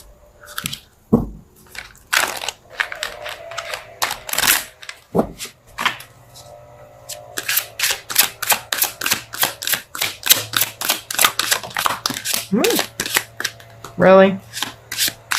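Tarot cards shuffled and handled in a rapid run of crisp riffling clicks and flicks, close and fairly loud, with a brief spoken word and scattered handling noises between bursts.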